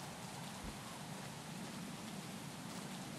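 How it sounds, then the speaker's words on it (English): Steady rain falls in the stealth video game Thief, a constant even hiss with no breaks and no voices. "When is it not raining in this game?"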